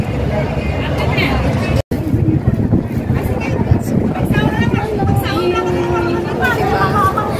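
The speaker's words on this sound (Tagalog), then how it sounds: "Malakas ang hangin eh." Strong wind buffets the microphone with a constant low rumble outside VivoCity mall in Singapore, while voices talk and murmur underneath.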